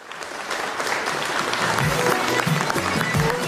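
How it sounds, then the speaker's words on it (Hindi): Studio audience applause greets a cricket legend being introduced on a cricket show, a steady, moderately loud patter of clapping with some low thumps and a voice heard over it. "तालियों में वैसे गर्मजोशी कम दिख रही है थोड़ी"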